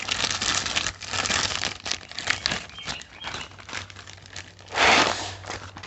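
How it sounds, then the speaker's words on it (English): A plastic Japanese beetle trap bag is opened up close with crisp crinkling and rustling in uneven bursts, ending in one louder rustle. "And we open up the bag."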